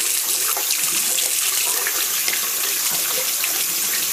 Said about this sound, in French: eau froide naturellement pour laver le blaireau